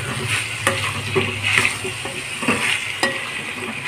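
Vegetables for Bhogi bhaji khengat sauté in oil in a pan, giving a close, continuous sizzle with occasional spoon scrapes and taps as they are stirred. No one speaks.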